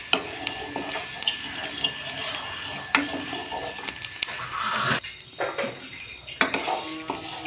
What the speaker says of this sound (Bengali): কড়াইটা গরম করে শুকনো লঙ্কা ধনে জিরে মৌরি মেথি কড়াই দিয়ে ভালো করে ভেজে নেব